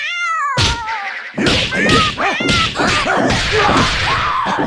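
A cartoonish cat meows repeatedly with wavering pitch, loud and close, over busy video game music and thumping hits during a competitive match.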